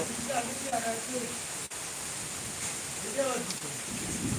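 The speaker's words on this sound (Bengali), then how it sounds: "আমি এখানে বৃষ্টির মধ্যে বারান্দায় দাঁড়িয়ে আছি" Steady rain hisses continuously in the background, heard from a balcony, fairly soft and even, with a faint voice murmuring briefly now and then.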